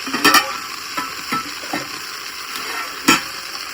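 Cooking jackfruit curry in a pan crackles and sizzles as hot water hits it, with a few stirring scrapes and sharp spatters over a steady hiss.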